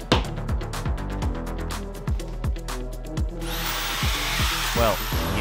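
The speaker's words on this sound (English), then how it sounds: "After marking the drilling holes, I could start drilling again." A power drill runs in short repeated bursts with a whining motor while drilling holes for a folding desk, followed by a harsher grinding stretch as it bites into material; close and loud.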